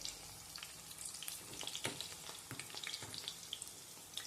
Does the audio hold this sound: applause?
no